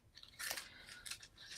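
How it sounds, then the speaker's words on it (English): Scissors snip through craft foil in a few quick, crisp cuts, close and fairly quiet, with a soft rustle between strokes and no talking. "These are the scissors I use for foil."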